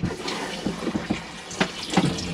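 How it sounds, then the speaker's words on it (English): Hot water running from a tap in a Rollerteam Autoroller 747 motorhome, an uneven splashing trickle with small gurgles and spurts, close by and without speech. "Hot water's coming through, nice and hot there."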